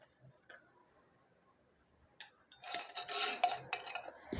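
Cooked coconut mixture being scraped from a kadai into a bowl, with a few faint early clinks and then a busy stretch of utensil scraping and clatter in the second half.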